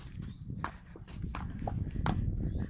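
Hooves clop unevenly on the ground amid a low, rumbling background, a horse walking close by.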